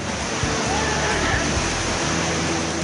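Varadayini waterfall in Raigad pours in a loud, continuous broadband roar of rushing water, close by and unbroken for the whole stretch.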